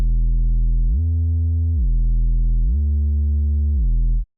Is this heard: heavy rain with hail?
no